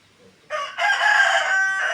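A rooster crows loudly and close by at a farm where piglets are kept among chickens, a single long drawn-out call that starts abruptly after a quiet moment and holds steady to the end.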